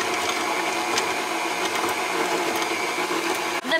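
A stand mixer at slow speed whisks lemon loaf batter, producing a steady close whirring drone with a faint rhythmic rattle, uninterrupted until a brief knock near the end.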